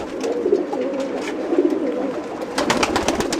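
Soft cooing of assorted pigeon breeds in a farm loft, repeated low coos under a busy background of rustling and wingbeats, with louder flutters near the end.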